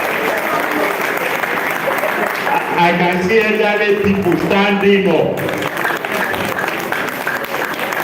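An audience at an honoree event applauds in a dense, sustained wash of clapping, and someone speaks over it into a microphone.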